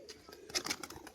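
Pigeons kept by a fancier coo in short, soft bursts nearby, a few rounded calls stacked over a quiet background with a faint hint of wing movement.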